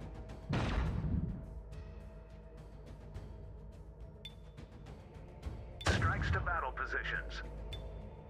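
Weapons fire in a space battle from the game Infinite Lagrange: two heavy booming volleys several seconds apart, each with rumbling tails, while game voices chatter over the second.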